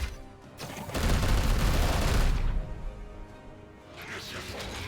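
Gunfire in the video game Warhammer 40000 Chaos Gate, a sustained loud burst of shots and crashing impacts that fades into lower rumbling, with a game voice line nearby.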